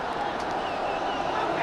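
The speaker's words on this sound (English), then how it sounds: "You can hear the groans from the Indonesian crowd." An Indonesian football crowd in a stadium groans at a poor pass, a broad sustained murmur of many voices at a distance.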